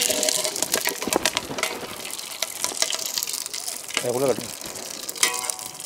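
Cinnamon, cloves, bay leaf and pineapple sautéing in a pan give a steady sizzle and crackle with scraping stirs, continuous and close throughout, and a brief higher clatter near the end.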